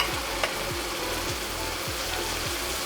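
Ground tomato added to a hot pan for crab masala gives a soft, steady sizzle and bubbling. A low, regular thumping runs underneath, and there is no talking.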